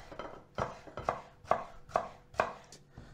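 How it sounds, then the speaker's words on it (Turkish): A knife chops juicy tomatoes into large pieces on a board for a Gaziantep purslane stew, giving about six crisp, evenly spaced chops close by, with no talking. "Domatesleri de şöyle üçe bölüyorum."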